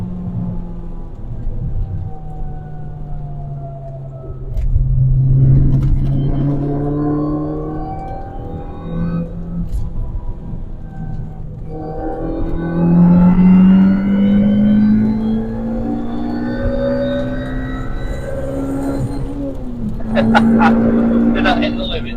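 A 220 WHP Mini Cooper S R53 revving hard at full throttle on a wet road, its engine note climbing in repeated rising sweeps between gear changes, loud and close from inside the car while people talk over it.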